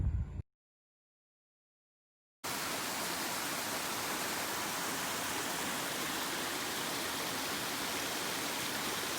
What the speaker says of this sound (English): Found ourselves a waterfall.